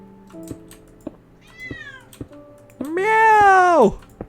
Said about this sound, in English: Did you hear the meow?